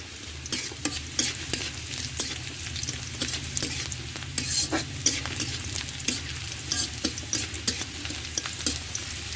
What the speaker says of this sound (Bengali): এই যে রসুনগুলো আমার ভাজা হয়ে গেছে